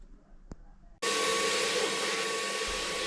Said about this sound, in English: The next job is to just give it a really good hoover and get any dust up.